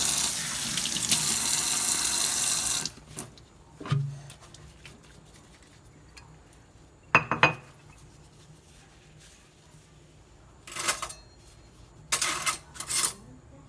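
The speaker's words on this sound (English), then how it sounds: "wash my ginger and peel it." A kitchen tap runs steadily into a sink for about three seconds while ginger is washed, then stops; a few short, splashy water bursts and clinks follow, close and fairly quiet, with no talking.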